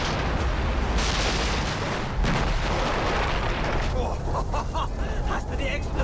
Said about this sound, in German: Hast du die Explosion gesehen?